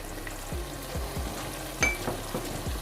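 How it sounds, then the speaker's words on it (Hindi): Masala fries in a pan with a steady sizzle, broken by about half a dozen scraping spoon stirs at an uneven rhythm. The sound is close and moderately loud, with no voices. "ये देखिए मसाला बहुत अच्छे से मैंने इसको भून लिया है"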